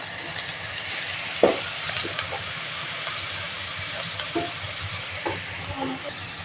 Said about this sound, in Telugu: బాగా కలబెట్టాలి. ఎందుకంటే పచ్చిమిర్చికి ఉల్లిగడ్డకు పట్టాలి పసుపు